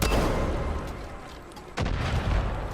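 Heavy booming weapon fire from a rocket launcher in Far Cry 5, two loud blasts roughly a second and a half apart, each with a rumbling tail, with no talking.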